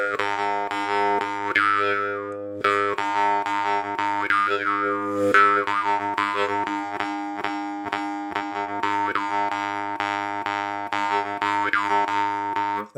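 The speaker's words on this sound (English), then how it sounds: "Here's another one of these alien ones with the copper rivets." A Ghorka or Rekha style morchang jaw harp fitted with copper rivets twangs in a steady rhythmic pattern, with bright buzzing overtones and repeated boing-like pitch sweeps, played close and alone.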